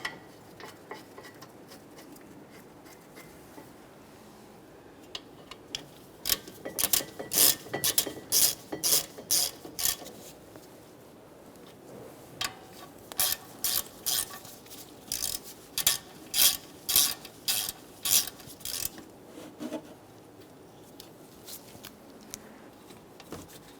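Close ratchet wrench clicking in rapid bursts as the 17mm brake caliper mounting bolts on a Toyota Sienna are snugged up, with two long runs of steady pawl clicks separated by a pause.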